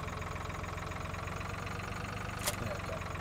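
A tractor engine idles in Farming Simulator 2013, a steady low rumbling drone with a regular mechanical pulse throughout, briefly marked by a short bright hiss partway through.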